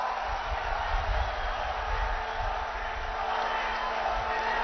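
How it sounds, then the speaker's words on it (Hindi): A crowd at the Shri Kalki Dham temple event in Sambhal applauds to welcome Prime Minister Narendra Modi, a steady, dense wash of clapping and cheering that holds evenly throughout. "जोरदार तालियों से स्वागत"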